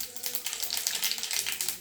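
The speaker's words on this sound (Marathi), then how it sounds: "सुरुवातीला आपण नेहमीप्रमाणे फोडणी घालून घ्यायची आहे।" Mustard seeds and cumin crackle in hot oil for a tempering, giving a dense, close burst of rapid popping and spitting over a steady sizzle. The sound holds strong throughout the short stretch.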